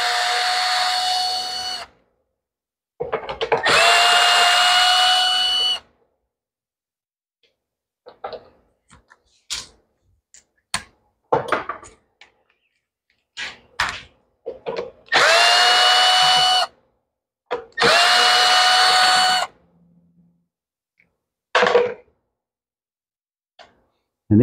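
A power drill with a nut-driver bit backs screws out of a Toro mower, several loud whirring runs of a few seconds each, separated by quiet gaps full of clicks, taps and small handling noises close by.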